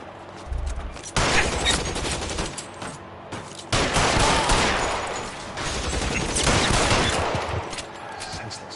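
Bursts of gunfire crack in an L.A. Noire shootout, several dense volleys of rapid shots with short gaps between them, loud and close with no talking.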